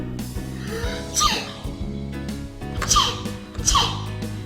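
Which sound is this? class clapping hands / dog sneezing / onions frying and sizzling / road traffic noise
dog sneezing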